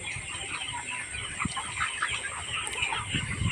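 Layer hens cluck in a steady, dense chorus, a flock of farm chickens close by with overlapping calls and a few louder squawks, with no talk over them.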